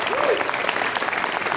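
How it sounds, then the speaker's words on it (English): Applause for the Weslaco Panthers JV and freshman football teams at a high school football complex dedication ceremony, a steady wash of clapping from a crowd filling the short moment. "how about a big round of applause?"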